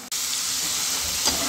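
French fries deep fry in hot oil, a dense, even bubbling hiss that fills the whole moment, close and steady after a brief dip at the start.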